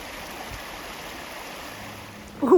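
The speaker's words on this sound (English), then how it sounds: "How nice to just have a nice little water feature along the side." Steady broadband rush of a small roadside stream flowing alongside a trail road walk on the Appalachian Trail, continuous and moderately close, with a brief louder rustle at the very end.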